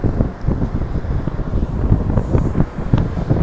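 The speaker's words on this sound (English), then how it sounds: "Ooh, very windy down here." Low, rumbling wind buffets the microphone in uneven gusts down a stairway at LOHAS Park metro station, loud and close, with no voices present.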